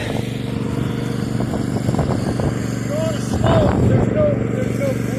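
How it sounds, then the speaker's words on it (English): A Husqvarna zero turn lawn mower engine runs steadily close by, a constant loud drone that swells briefly partway through, with a person talking over it. "So the zero turn is started. Listen to that thing go."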